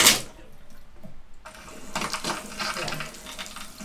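Water running from a newly installed bathroom vanity faucet, a brief splash and then a steady hissing stream pouring into the sink, close and continuous.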